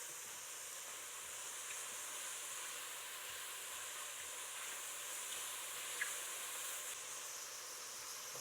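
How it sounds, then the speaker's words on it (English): Onions and mushrooms sauté in a pan with a faint, steady hiss of sizzling that holds even throughout, quiet and unbroken. "the onions and mushrooms are starting to saute"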